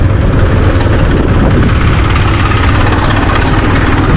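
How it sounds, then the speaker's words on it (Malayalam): A tractor engine idles loud and close on a road in Jaipur in a steady, unbroken rumble with a rough low vibration throughout. "ഇതൊക്കെ ഒരു ട്രാക്ടർ വരുന്നുണ്ടോ."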